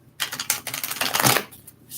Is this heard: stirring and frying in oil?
no